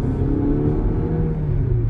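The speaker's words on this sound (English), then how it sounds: "Even the exhaust sound changes too, huh?" 2022 Haval H6 GT driven in race mode, with a steady low engine and exhaust drone heard from the cabin, continuous and fairly loud with no talk.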